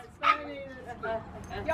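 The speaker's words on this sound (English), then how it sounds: "He's gonna bark too." A dog gives a few short yips and whimpering barks nearby while a person talks over it.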